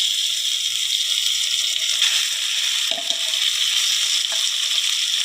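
Soya chunks fry in a hot pan for soya bharta, a steady loud sizzle running throughout with a couple of brief stirring scrapes, no talk.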